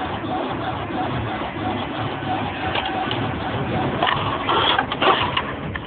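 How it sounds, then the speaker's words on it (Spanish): A printer runs while printing data sent from a computer, giving a steady mechanical whir and rattle with a muffled, band-limited tone. It grows a little busier with sharper clicks near the end. "los datos serán enviados a la impresora, convirtiéndolos en una imagen legible para el usuario"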